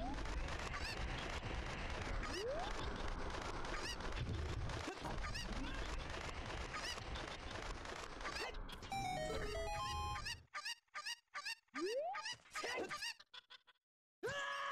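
Chickens cluck repeatedly in a Zelda: Ocarina of Time rom hack escape room over busy game sound, followed by a bright chiming jingle and a few scattered clucks between short gaps.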